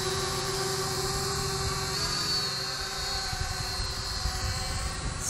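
An Eachine E56 selfie drone hovers close by, its small motors and propellers giving a steady, continuous high whine with no talk over it.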